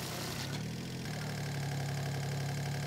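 An engine driving a vacuum pump on a fire pump runs steadily at a low rumble, with a brief shift in tone early on before settling into an even idle.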